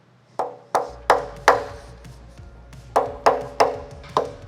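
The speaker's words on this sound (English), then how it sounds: "Let's try a hammer. See if this will work." A hammer strikes metal on a 1969 Ford Mustang engine in sharp ringing blows, four in one burst, a pause, then four more, each leaving a short metallic ring.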